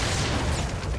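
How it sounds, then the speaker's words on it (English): Booming explosion in the video game Crash Bandicoot 2, a single dense, loud burst filling the whole moment, with no talk. "Big explosion. Love seeing that."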